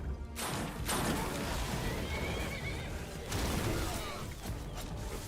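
A horse in modded Skyrim lets out a loud, close whinny, followed by a second neigh and clattering game sounds in a busy mix.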